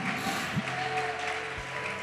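Church congregation clapping during a Portuguese-language worship service, a brief burst of applause mixed with murmuring voices and a faint sustained tone beneath.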